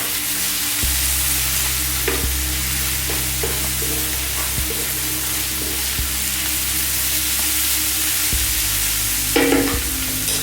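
Turmeric goes into a hot pan of fish curry base above medium heat, a loud continuous sizzle and fry broken by several scraping stirs, close up and with no voices.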